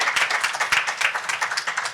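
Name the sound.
round of applause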